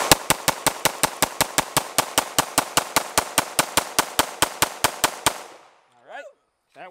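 A PSA Dagger 9mm pistol fires a fast string of about twenty-two evenly spaced, loud, sharp shots over roughly five seconds, then stops. Brief voices follow.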